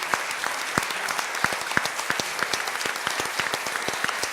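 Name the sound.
audience applause after theatre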